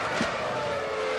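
A Formula 1 race car at speed on the Hungaroring circuit during the 2001 Hungarian Grand Prix, a steady high-pitched engine whine held loud and unbroken, with a brief tire scrub near the start.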